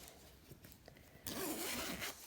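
A black zip on a llama-patterned lined bag is pulled open in one quick, close rasp after a second of quiet handling.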